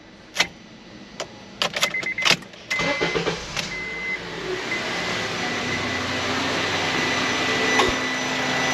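A Honda CR-V with a 2.4 engine and an electrical fault is started, with a few key clicks and clunks first, then the engine catches and settles into a steady, gradually building idle hum, close and without talk.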